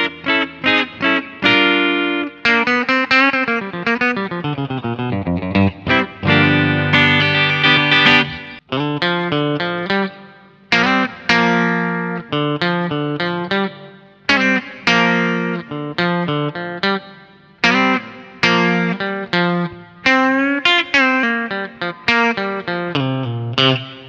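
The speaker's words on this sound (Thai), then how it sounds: "ทีนี้เราลองมาฟังแบบตัดคอยกันดูนะครับ" A Bacchus G-Studio FM Custom electric guitar with its humbucker coil-split plays loud distorted, chorused lead lines, fast runs and bends with brief gaps between phrases, no voices.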